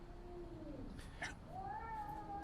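Several cats meow in a high, rising and falling run, a couple of clear calls close by over a steady background hum, with no talk.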